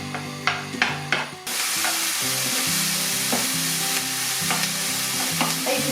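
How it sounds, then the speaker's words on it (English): Pancetta and onion frying in a pan for hunter's chicken: a few light clinks of utensils give way to a steady, loud, close sizzle with occasional stirring scrapes. "Now you can see this is sizzling nicely, you probably hear it as well."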